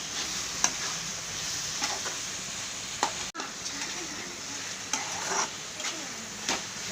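Thinly sliced green chilies and chopped coriander stirred into hot oil for chicken curry, giving a steady sizzle with scattered scraping clicks of the spoon against the pan, close and moderately loud, with no talk.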